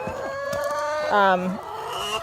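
A small backyard chicken clucks and squawks close by, a quick run of harsh, rising calls with one louder drawn-out note in the middle.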